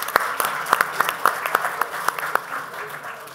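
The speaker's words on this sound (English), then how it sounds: "which means you should applaud." Sparse, scattered hand claps from a small audience at a financial index event, individual claps distinct and irregular over a few seconds, fairly close and moderately loud.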